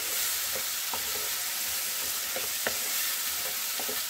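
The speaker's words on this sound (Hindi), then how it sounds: "तो अभी हम 2 मिनट अच्छे से तेज आंच में मटर को मसाले के साथ भून लेंगे।" Peas frying with spices over high heat in a chicken keema gravy: a dense, even sizzle close up, broken by scattered light clicks and taps of a stirring spoon.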